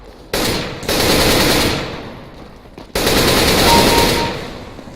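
Bursts of rapid automatic gunfire in Counter-Strike: Global Offensive, two loud sustained volleys with a short pause between them, each fading at its tail.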